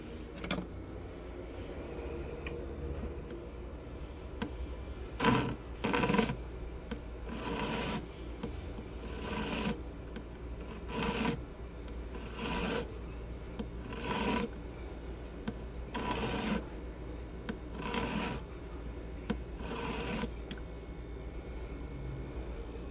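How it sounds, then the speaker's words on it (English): A metal file rasps against the sides of a white gold ring in repeated back-and-forth strokes, steady and close, over a low background hum. "let's go ahead and file these sides down now"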